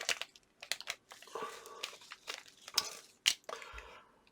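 Plastic bag of an Airfix 1:72 model kit torn open by hand: crinkles and rips in a series of short, crisp bursts, with a few sharp snaps, close up and fairly quiet.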